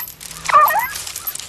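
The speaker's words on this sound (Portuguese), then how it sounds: "É um cachorro." A dog lets out a brief yelping whimper, close and sharp, standing out over a quiet background.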